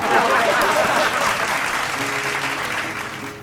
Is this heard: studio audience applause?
yes